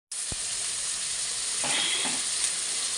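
Tomatoes with salt sizzle and fry steadily in a pan while being stirred, a close, continuous crackling hiss with a few soft scraping stirs and no talking.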